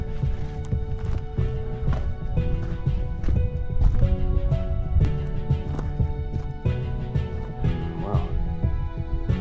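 Horses moving on a ridge above a gravel work site, with a steady run of hoof clip-clops at moderate distance and soft rustling underneath.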